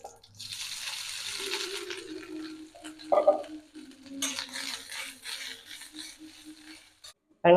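Cashews, poppy seeds and coconut roast in a pan, giving a dry frying hiss with intermittent scraping and stirring clatter, a louder knock near the middle and a sharp clink at the very end, no talk.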